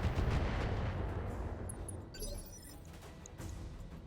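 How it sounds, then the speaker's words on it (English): Artillery shells from high explosive ammunition slam down in the RogueTech mech video game, a dense rumbling barrage of booming impacts with crackling debris, loud and continuous, easing slightly midway before another hit. "Nice artillery hits there."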